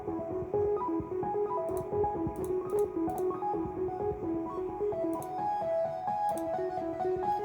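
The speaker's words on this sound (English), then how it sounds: "FL Studio has this plugin called Gross Beat, which is just the most beautiful thing on this earth." A music track processed with the Gross Beat plugin in FL Studio: a looping, choppy melodic pattern with warbling pitched notes over dense low texture, with short clicky stutters scattered through and no voices.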